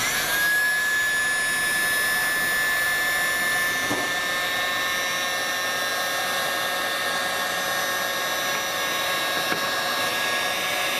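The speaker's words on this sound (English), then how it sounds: "Now I just shrink this with a heat gun." A heat gun blows a loud, steady whine with a high tonal hum onto shrink wrap, running continuously, unchanging throughout, close up.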